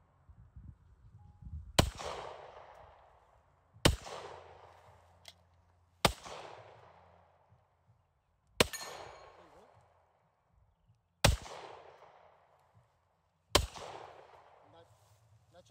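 Six sharp, loud gunshots ring out at a backyard mini shooting range, spaced about two seconds apart, each with a short echoing tail; faint voices murmur between the shots.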